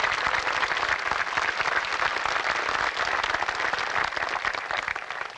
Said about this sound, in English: Join me as we give them all a round of applause